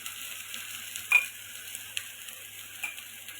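Spices hit hot oil while lentils and potatoes cook, giving a faint, steady sizzle with a few soft stirring clicks and taps, no voices.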